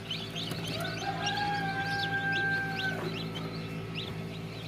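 Repeated high chirps and peeps from chicks of the Tiger chicken breed in a busy poultry yard, with a steady whistling tone and low background hum underneath.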